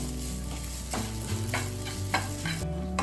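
Grated tender coconut roasting in a pan for jackfruit erissery, giving a continuous soft sizzle broken by the scrape and clatter of a spoon stirring it, close and clear.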